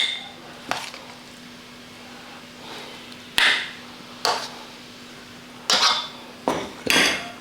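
Pieces of snap melon are moved into a bowl with a series of sharp dish clinks and clatters, about seven distinct knocks spaced unevenly and heard close up with no talking.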